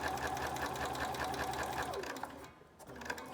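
A Bernina sewing machine with free-motion embroidery foot #24 hums in a fast, even stitching rhythm while outlining petals on stitched sinamay. It pauses briefly, then restarts, close and clear with no talking.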